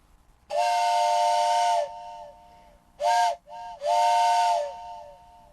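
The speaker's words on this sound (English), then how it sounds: "the whistle blowing past my window" A steam train whistle sounds in three loud blasts: a long one, a quick short pair, then another long blast, with hiss trailing between them.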